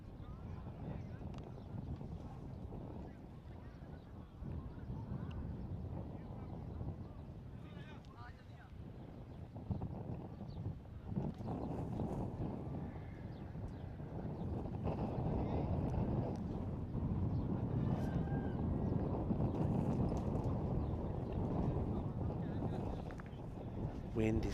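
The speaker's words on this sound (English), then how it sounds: "wind is still playing around pretty strongly" Strong wind buffets an outdoor microphone at a T10 cricket ground in Cyprus, a steady loud rumble that rises and gusts throughout, with commentators talking over it.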